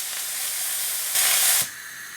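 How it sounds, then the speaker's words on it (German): Steam hisses steadily from the valve of a pressure cooker, a continuous close spray that swells into a brief louder rush before settling back to a softer hiss. "Anfangs entweicht noch etwas Dampf, wenn der Druck aber hoch genug ist, verschließt dieser den Mechanismus des Ventils."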